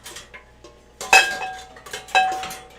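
Metal frying pans clank and ring as they come off a hanging hook in a home kitchen. A few light taps lead into two sharp, resonant clangs about a second apart, each followed by a short metallic ring.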